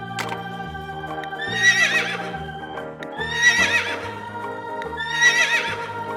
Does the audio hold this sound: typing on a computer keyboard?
no